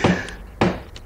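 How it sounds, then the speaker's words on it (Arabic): Two sharp knocks on a door, separated by a short pause, close and fairly loud in an otherwise quiet room. "ترى من الطارق؟"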